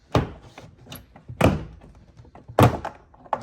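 Three sharp plastic thunks and pops, spaced about a second apart, as clips release while a 2023 Honda Accord interior door panel is pried off, close and fairly loud with small rattles between.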